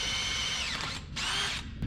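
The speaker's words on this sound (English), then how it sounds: "But I just drill and press." A power drill bores through a DIY coil-over mount during fabrication work on a 1967 Toyota Stout, a loud, close, whining motor that holds steady, dips briefly, then resumes before stopping.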